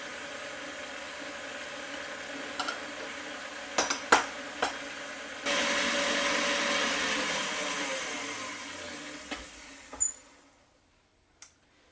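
A stand mixer works bread dough at high speed, its steady whirring motor kicking in abruptly after a few clanks of bowl and utensils, then winding down and stopping with a final knock.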